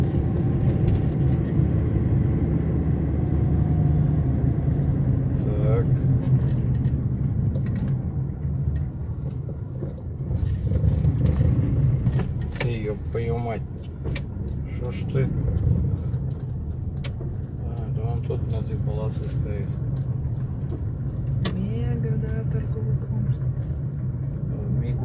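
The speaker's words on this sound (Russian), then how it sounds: "Автобус едет, как раз он там" A bus engine rumbles low and steady as it drives along a street, with passing traffic noise and occasional voices talking nearby.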